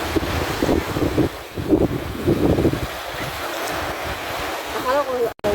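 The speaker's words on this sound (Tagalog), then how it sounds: "Sobrang alon yun. Sobrang alon." Rough ocean surf breaks at a beach, a steady wash of waves with wind buffeting the microphone, and a voice speaks briefly near the end.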